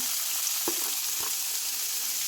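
Chopped onions fry in a hot pan for a chicken roast, giving a loud, steady broadband sizzle with a couple of faint stirring knocks and no voices.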